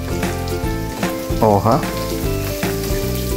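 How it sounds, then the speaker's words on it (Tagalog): Onions hitting a hot pan of browning garlic as a sauté begins for ginataang crab and shrimp, with a steady close sizzle under music and a brief voice. "Pag medyo nag-brown ng konti, tsaka na natin ilagay yung sibuyas."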